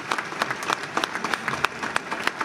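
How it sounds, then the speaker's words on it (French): An audience at the inauguration of Dijon's international gastronomy and wine centre applauds an architect, a brief patter of scattered hand claps from a modest crowd, moderately distant. "On peut l'applaudir"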